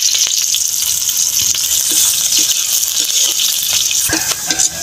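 Garlic and chili sauté in a pan, a loud, continuous close hiss of frying oil with scattered clinks and scrapes of a stirring utensil.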